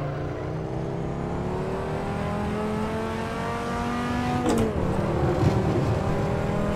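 Dodge Viper RT/10 '95 engine in Assetto Corsa on the Nordschleife, droning steadily with rising revs, then a quick gear change near the end and the note climbing again, loud and close.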